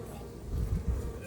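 Honeybees hum around a newly started backyard hive of about 3,000 bees, a dense low buzzing swelling and fading close by, with a little faint background noise.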